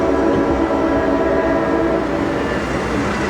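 A White Pass and Yukon Route narrow gauge train runs near Skagway, its loud, steady rumble and rolling wheel noise filling the whole stretch with an even, close drone.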